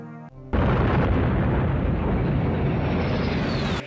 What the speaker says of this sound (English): She escapes in her ship, leaving behind a massive explosion